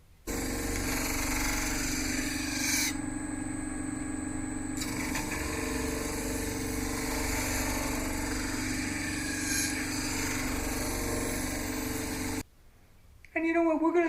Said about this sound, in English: we're going to disc sand that puppy up to about 400 grit on the disc